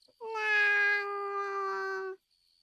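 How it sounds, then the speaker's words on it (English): A kitten gives one long, clear meow of about two seconds, close and fairly loud, with a steady, drawn-out pitch and nothing else around it. "The kitten meows after her"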